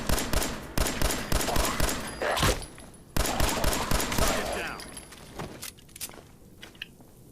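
Assault rifle fire in Fallout 4: loud, evenly spaced single shots in a steady rhythm, a brief pause, then another run of shots that tapers off into scattered quieter clatter.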